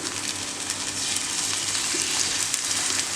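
Paratha batter spread thin on a hot pan for a vegetarian pizza paratha sizzles with a continuous, fairly quiet frying hiss and a few faint crackles throughout, with no talking.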